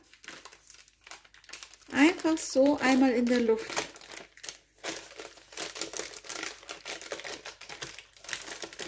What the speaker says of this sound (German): Und ziehe hier unten das Papier ab.